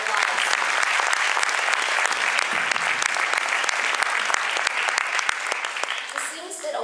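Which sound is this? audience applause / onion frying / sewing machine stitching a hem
audience applause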